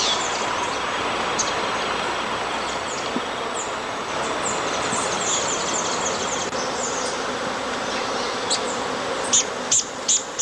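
Native Brazilian stingless bees make a dense, continuous buzzing hum, loud and close, with a few sharper insect passes near the end.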